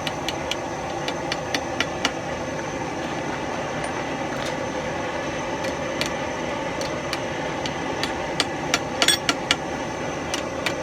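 Hammer blows ring out on a hot Norse-style tomahawk at the forge, a series of sharp, evenly spaced metallic strikes over a steady roaring blower or fire hum, with no speech.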